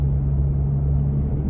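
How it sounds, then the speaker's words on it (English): A Toyota Tacoma engine idling with an open intake, a steady low rumble with a droning hum, continuous and even throughout. "I never thought I would get any sound out of an open intake, but you guys can hear it."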